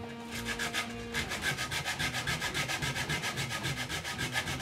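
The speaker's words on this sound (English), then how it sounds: "There's a couple of bits that are a little bit rough. So they can be fixed with some sandpaper." Sandpaper rubs rough 3D-printed Star Wars E11 blaster parts in quick, even back-and-forth strokes. The scratchy sound is close and steady, with no voices over it.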